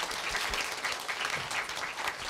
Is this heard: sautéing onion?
no